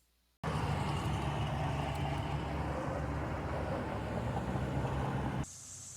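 Road traffic noise near a trail edge in Morehead, Kentucky: a sudden steady roar of passing vehicles, broad and continuous for about five seconds, then dropping to a quieter background hum.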